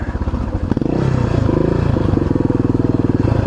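A Yamaha XT600 motorcycle engine running out in the bush, a loud close single-cylinder thump with a fast even pulse, rough at first and then settling into a steady idle.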